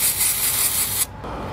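Isopropyl alcohol sprayed from a can onto a Saab 9-3 ECM circuit board: a steady, close, bright hiss lasting about a second, then cutting off abruptly into quiet room noise.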